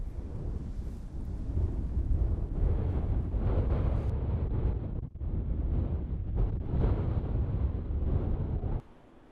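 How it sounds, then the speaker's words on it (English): A real gale blasting across a rocky Lake District summit viewpoint above Thirlmere, loud roaring gusts buffeting the microphone steadily for about nine seconds before easing at the end. "It's very windy today"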